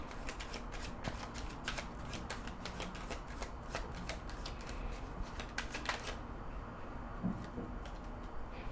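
A deck of oracle cards is shuffled by hand in rapid, close, crisp riffling bursts that repeat for several seconds, then fall quiet near the end.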